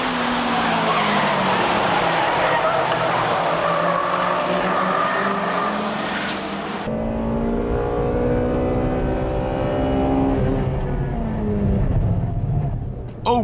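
A Honda Integra Type R with its VTEC engine races hard, screaming at high revs with squealing tires through a corner, loud and continuous, with the engine note shifting sharply midway.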